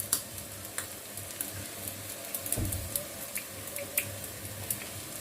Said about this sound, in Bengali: এবার এটা আমি ভালো করে নেড়ে নিলাম